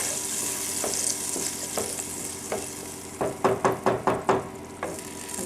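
Tomatoes stirred together in a pan with the flame off for basil meatball sauce: a series of close utensil scrapes and knocks, sparse at first then a quick burst of rhythmic strokes, over a soft sizzle-like hiss.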